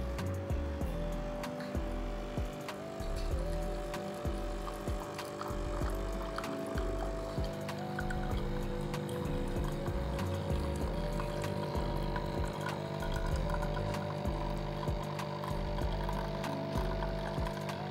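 A coffee machine brews black coffee with a steady electric hum and a rhythmic pumping pulse. The sound is moderately quiet and close, and no one talks.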